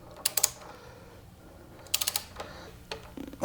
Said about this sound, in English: It tightens to 17 foot-pounds. I've got my wrench all set up.